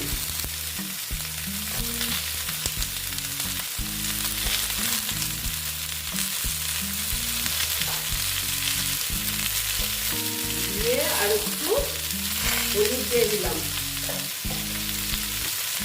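Pointed gourd, eggplant and pumpkin fry in a pan for a mixed vegetable curry, a loud steady sizzle with spatula stirring and scraping throughout and a brief faint tonal squeak partway, no speech.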